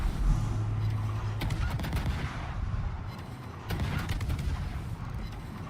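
Heavy naval guns firing high-explosive shells in World of Warships, two separate rumbling salvos of booming shots over a constant low engine and sea drone, with no voices.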